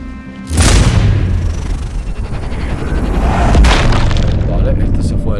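A sudden loud boom from a sniper shot setting off an explosion in Sniper Ghost Warrior Contracts 2, followed by a long rumbling roar and a second swell of debris and fire, with speech-like sound mixed in.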